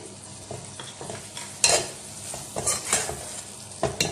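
A spoon stirs keema matar, minced meat with peas, just dosed with garam masala in an oiled pan, giving scraping clinks and soft sizzling in uneven bursts, close and moderately loud, with no voices.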